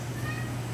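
A cat's meow, a brief sustained tonal cry that rises and falls over a steady background hum.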